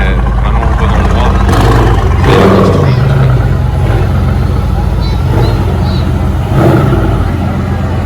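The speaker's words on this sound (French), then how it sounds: "Avoir droit au start-up de la MG GTR de Soul, écoutez ça" A Mercedes-AMG GT R engine starts up and rumbles loudly on the casino square, a deep, steady roar that swells at moments. Crowd noise and voices mix in around it.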